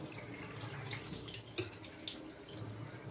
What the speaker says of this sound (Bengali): এটা জল দিয়ে আমরা এবার ভালো করে ধোবো